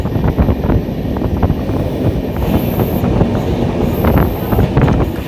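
A passenger train running on rails on the Hasimara route from Kolkata toward Bhutan, with a loud, steady rumble of wheels and repeated clattering, heard from inside the carriage and continuous throughout with no talking.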